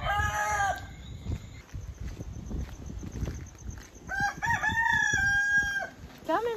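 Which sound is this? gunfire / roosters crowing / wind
roosters crowing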